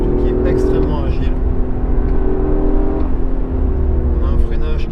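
A Toyota GR Yaris 261 hp Track Pack engine revs in the background, a steady droning growl with rising pitch sweeps, while someone talks over it.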